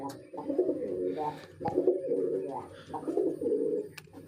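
Jalali pigeons coo in low, throaty rolling phrases, several in succession, close by, with a sharp click or two between calls.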